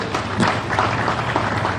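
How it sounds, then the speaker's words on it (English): Audience applause for His Lordship at a formal business forum in Ghana, a brief steady wash of clapping from a crowd, moderately loud and continuous. "Another round of applause for His Lordship."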